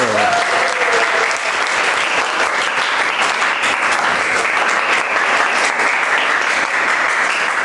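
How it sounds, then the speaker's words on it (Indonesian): A classroom of students applauds a group after a math presentation, steady dense clapping filling the whole stretch at a close, even level with no gaps. "Kasih tepuk tangan untuk kelompok 1."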